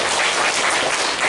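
A church congregation claps together during a Sunday worship service, a brief, dense, steady burst of applause with no voices over it.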